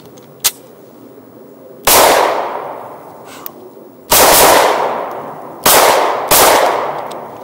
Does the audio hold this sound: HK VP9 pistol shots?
yes